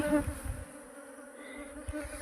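A swarm of angry honey bees buzzes in a steady near drone, with a few brief low thumps and bumps around it.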